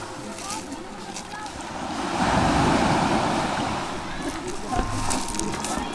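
Sea waves rush and surge nearby, swelling into a louder wash midway, with wind buffeting the microphone throughout.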